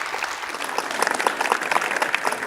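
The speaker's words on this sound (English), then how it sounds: "So a big round of applause for them." Audience applause at a tech startup demo day event, steady clapping from a crowd lasting throughout, moderately loud with dense overlapping claps.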